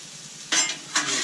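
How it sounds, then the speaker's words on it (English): Eggs for a southwestern breakfast scramble stirred in a frying pan, two quick scraping strokes over a soft sizzle, close and brief. "We'll stir this around a little bit."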